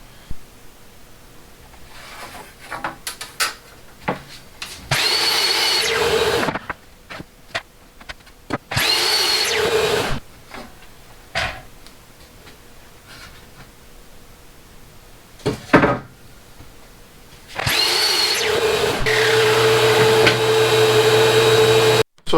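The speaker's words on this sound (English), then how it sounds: "then we'll head over to the drill press" Drill press boring into barn wood boards, several loud whining bursts separated by pauses, with handling clatter and knocks between runs.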